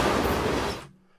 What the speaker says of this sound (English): just a train going by